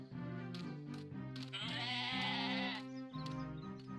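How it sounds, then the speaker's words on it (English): Baby goats in a Barbie horse mystery video game bleat several times in close, wavering calls that overlap and swell midway, over steady tonal game music. "Maybe I should herd these baby goats out of the way."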